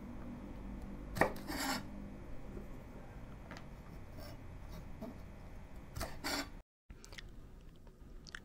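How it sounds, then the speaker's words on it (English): A knife trimming both ends of green beans on a board, quiet rasping scrapes and a few light cuts, faint and close with a brief pause near the end. "Cut away both ends of the green beans."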